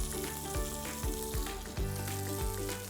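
Chicken shashlik pieces sizzle and crackle steadily in a hot frying pan, a close, continuous fry with a few sharper spatters and pops punctuating it, no voices over it.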